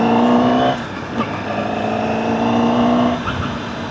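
Honda CBR1000RR Fireblade sport motorcycle accelerating hard, a loud, close engine roar that rises and holds through gear changes with no talking over it.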